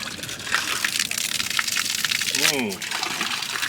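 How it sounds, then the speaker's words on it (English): Water gushes steadily from a hose at a boat marina, flushing the line with a splashing rush while a voice briefly sounds partway through. "I'm going to let it run for a while to get excess water that might have been in there and the hose out for a while"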